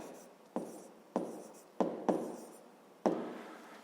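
Hand writing of a fifth-grade math solution on paper, five quick pen strokes each opening with a soft tap and trailing off, close and quiet without talk.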